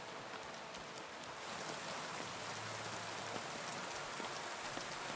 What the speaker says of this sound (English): I know you can barely hear me over this rain